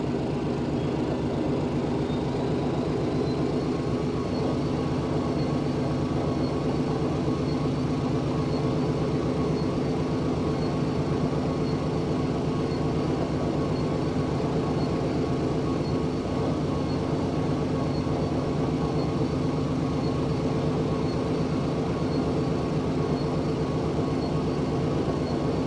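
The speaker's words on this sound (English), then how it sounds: "Let's hit the right engine." A Grumman Albatross amphibian's right radial engine starts and runs with a loud, steady propeller drone that holds throughout, heard from inside the aircraft.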